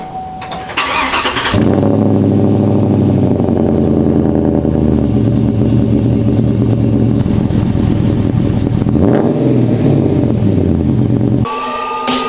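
Pickup truck engine cranks over and catches, then roars loudly and steadily with rising revs before cutting off near the end; no talking over it.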